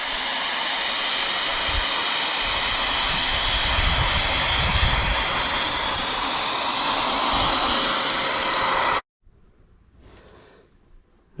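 Electric ducted fan on an RC hydroplane roars loudly and steadily with a high whine and hiss, then cuts off abruptly near the end, leaving quiet water and background noise.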